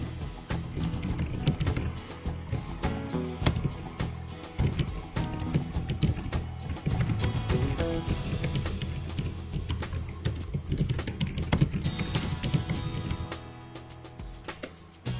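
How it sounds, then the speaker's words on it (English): Steady typing on a computer keyboard, a dense, continuous run of close key clicks that carries on almost without pause and eases off near the end. "I'm just going to type in what I call a bio"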